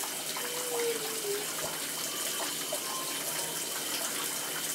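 Water runs steadily from a tap while a child's hair is washed with natural organic soap, a continuous close hiss with faint splashing and no talk over it.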